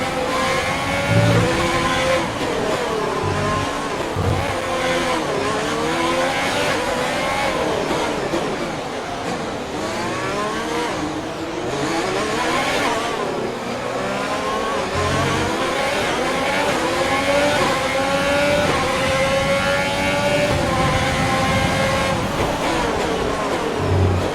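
A Formula 1 car in the F1 2020 racing game screams through its gears, engine pitch sweeping up and down repeatedly at high revs, loud and sustained throughout.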